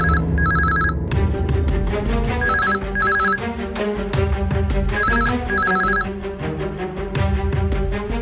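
A telephone bell rings in repeated short bursts as a call is placed in a Telugu TV serial scene, sounding loud and close over steady, dramatic background music.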